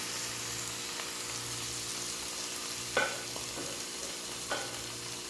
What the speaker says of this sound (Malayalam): നമുക്കിത് നന്നായി ഇളക്കിയെടുക്കാം